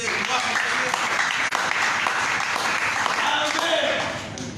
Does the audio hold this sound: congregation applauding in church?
yes